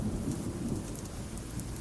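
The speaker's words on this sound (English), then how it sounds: "The thunder crashes louder now." Thunder rumbles low and steady through heavy rain falling on surfaces, a continuous storm wash with no voices.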